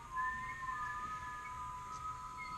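Soft, thin whistling tones hold steady through a quiet indoor Kundalini yoga breathing session, faint against low background hiss.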